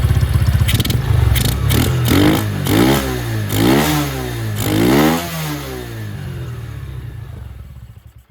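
A Venom X22 125cc motorcycle fitted with a Nibbi race carburetor runs loudly up close, revving up and down in several rising and falling sweeps before settling to a rough idle and cutting off at the end.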